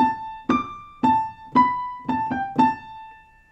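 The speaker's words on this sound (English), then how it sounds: "a fanfare comes in on a trumpet, I think, and that sounds something like this" A piano plays the Antiques Roadshow theme's trumpet fanfare alone, a run of seven crisp struck notes with a short pause before the last quick pair, each ringing briefly before the next.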